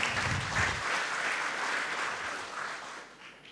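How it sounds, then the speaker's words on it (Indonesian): Brief applause from a church congregation during a service streamed online, a soft, fairly distant wash of clapping that fades out toward the end. "Yang siap berikan tepuk tangan meriah buat Tuhan kita."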